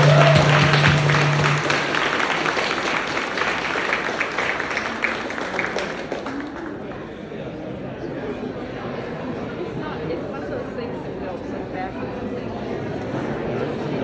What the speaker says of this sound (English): one last applause for Paul and his amazing work.